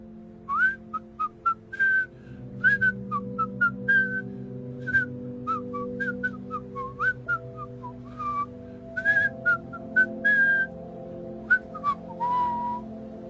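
Someone whistles a cheerful, bouncy tune in short, clear notes, close by and alone, steady over several phrases.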